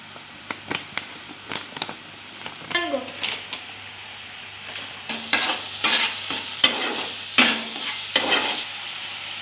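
Tomatoes sautéing in a pan for a paneer curry, with steady sizzling and frequent scraping stirs of a spatula that come up close and loud, with no talking.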